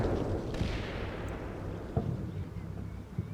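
Artillery and small-arms fire in the Cold War wargame CMCW, heard as a heavy low rumble of distant explosions that fades into scattered sharp reports, with no talk.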